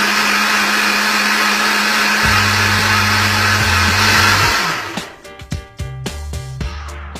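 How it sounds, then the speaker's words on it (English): Blender whirring loudly as it blends frozen vegetables with water, a steady motor drone that shifts pitch, then winds down into clunks and rattles as it stops. "I will empty the bags into a blender, add water, and blend it to a consistency that you can drink it."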